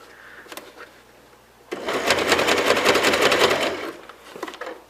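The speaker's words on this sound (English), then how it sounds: "You're going to stitch across the top of the bowl" A sewing machine stitches across the top of a fabric bowl in one loud, close, rapid burst lasting a couple of seconds. It is set between quieter handling sounds.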